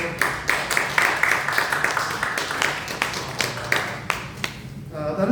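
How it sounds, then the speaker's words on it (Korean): Church congregation applauding together in a sanctuary, a steady run of dense hand claps that tapers off near the end, with a voice speaking faintly underneath. "우리 감사로 박수하고 또 박수로 축하하고"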